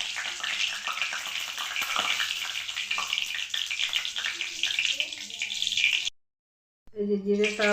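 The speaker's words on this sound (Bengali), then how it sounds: "এর মধ্যে দিয়ে দিলাম জিরে ফোড়ন" Cumin seeds sputter and crackle in hot mustard oil, a dense steady sizzle heard up close with scattered pops, cutting out briefly near the end before a voice speaks.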